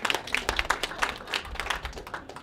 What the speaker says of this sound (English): Give Chris a round of applause, guys.